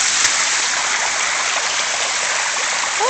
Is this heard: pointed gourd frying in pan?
no